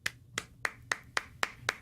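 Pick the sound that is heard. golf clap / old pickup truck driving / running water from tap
golf clap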